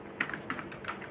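A formula being typed into Excel on a computer keyboard: a short run of soft, close key taps, a few quick strokes in just over a second, quiet with no talking.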